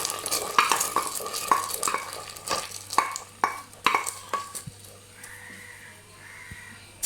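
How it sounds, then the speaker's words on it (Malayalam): A spoon stirs caramelized sugar into milk in a pot for onion payasam, making a series of sharp scraping and clinking strokes against the metal with a soft bubbling sizzle between them, slowing toward the end. "നന്നായിട്ടൊന്ന് ഇളക്കി കൊടുക്കുക."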